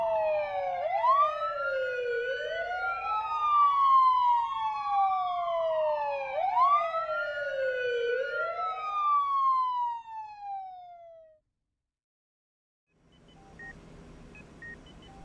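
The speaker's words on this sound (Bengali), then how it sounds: "জিপ আর অ্যাম্বুলেন্স শহরের বুক চিরে বো বো শব্দ করতে করতে ছুটে চলল নিজেদের" Siren effect for a jeep and ambulance racing through a city at night in an audio story: loud repeated wailing sweeps that stop abruptly, then faint electronic beeping, with no voices.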